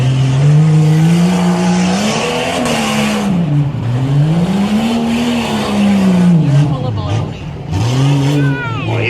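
Tough truck racing at the Lebanon Fairgrounds: a loud engine revs and climbs in pitch in repeated surges as the truck accelerates and bogs over the course, with an announcer talking over it.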